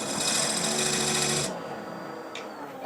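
A rotary power tool with a point bit rounds over the edge of a cherry burl box, a loud high whine with grinding buzz that stops abruptly halfway, leaving quiet room tone.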